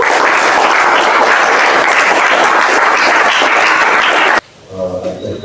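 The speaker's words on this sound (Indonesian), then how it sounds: "Tepuk tangan, Bu." Loud, dense applause from an audience at a Scout camp worship service at a high school, many hands clapping steadily for about four seconds before it cuts off abruptly, after which faint voices and other sounds follow.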